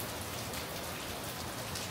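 Steady rain falls in a dense, even hiss with no distinct drops standing out, fairly quiet throughout on a rainy day in Taiwan.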